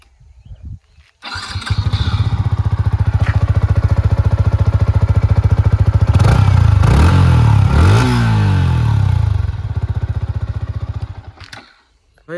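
A Yamaha R15 V4 BS6 motorcycle kicks into life close by, then idles loudly and steadily with several sharp revs of the engine before settling and cutting off.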